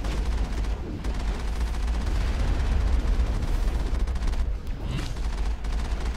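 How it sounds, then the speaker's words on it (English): A vehicle-mounted autocannon firing in the Mass Effect video game, a dense continuous rumbling barrage with a heavy low end, fairly loud and steady, with faint voices underneath. "Autocannon."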